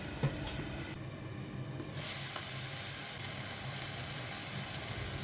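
Sliced beef sautés in a pan with a steady, quiet sizzle and hiss that swells partway through as it settles into continuous frying, with a faint knock near the start.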